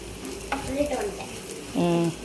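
Soft frying and stirring of spices in a pan, a low sizzle with scraping movements, fairly quiet and close, no talking.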